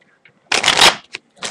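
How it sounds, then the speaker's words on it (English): A deck of playing cards is shuffled close by in one loud riffle lasting about half a second, followed by two brief softer card flicks. "so you can shuffle the cards"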